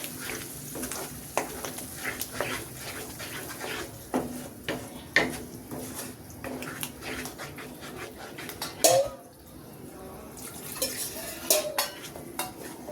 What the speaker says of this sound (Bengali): এটা একটু ভালো করে ভুনে নিচ্ছি এটার সাথে